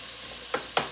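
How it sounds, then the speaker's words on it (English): Three chopped onions sautéing in a pan, with a steady broadband sizzle throughout and two brief louder bursts near the end, close and without talk. "Let that saute just a couple more minutes"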